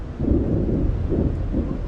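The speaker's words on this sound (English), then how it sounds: "Ooh, it's coming close. The thunder, I saw a bit of lightning." Rolling thunder from an approaching storm during an evening safari drive in South African bush country, a loud, low continuous rumble with swelling surges and faint rain-like hiss, no voices over it.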